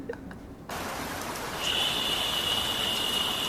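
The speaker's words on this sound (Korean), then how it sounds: "빗소리." Dense, steady hiss of falling rain starts abruptly after a brief quiet moment, continuing evenly with a thin high tone running through the latter part.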